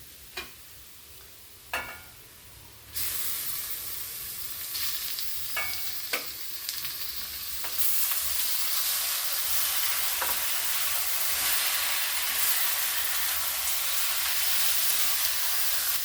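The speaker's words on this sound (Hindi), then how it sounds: "इसको लो मीडियम आंच पे भूनेंगे, ढक ढक कर हम इसको लो मीडियम आंच पर भूनेंगे।" Steady sizzling of chicken frying in a pan with fried onions over low-medium heat, with occasional clinks and scrapes of stirring near the start before the frying grows louder and continuous.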